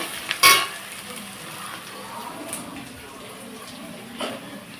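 Onions fried until browned in a pan for a Bengali mutton curry give a soft continuous sizzle with a faint watery hiss, plus one sharp clatter early on and a small knock near the end.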